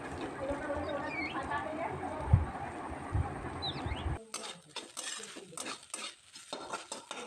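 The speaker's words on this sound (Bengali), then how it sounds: "পুরোপুরিভাবে সোয়াবিনটা দিয়ে দেওয়ার পর আমি খুন্তির সাহায্যে ভালোভাবে নেড়ে নেব।" A spatula stirs grated soybean and onions in a pan over a soft sizzle, with scraping and clinks from metal on the pan. The frying noise cuts out partway through, leaving only sparse stirring taps.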